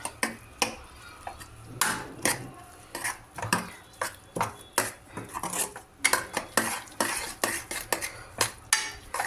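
A utensil stirs bread crumbs in a metal cooking pan, producing a rapid, irregular series of close scraping clinks and knocks that continue throughout without talk.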